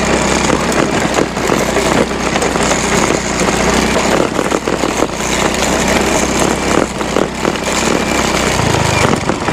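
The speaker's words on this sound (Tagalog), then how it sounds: "Talagang mahirapan yung motor mo dito umakyat." A motorcycle engine labours steadily under load while climbing a rough, badly damaged uphill road in Caloocan City, with a continuous loud, close drone and a slight change near the end.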